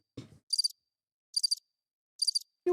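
Cricket chirps play as an inserted sound effect in three evenly spaced, rapid pulsing bursts, loud and clean against silence, with brief voice fragments at the very start and end.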